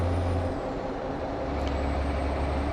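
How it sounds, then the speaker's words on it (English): A 285-horsepower Mack truck engine heard from inside the cab in a driving simulator, a low steady diesel drone at modest volume with faint road hum and no talking. "I like to share the sound of this delightful 285 horsepower Mack truck engine."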